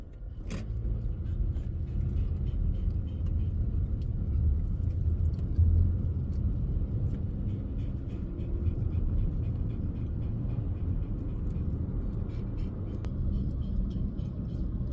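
A car drives steadily with a continuous low engine and road rumble that stays fairly loud and even throughout, with faint mechanical ticks on top and no talking.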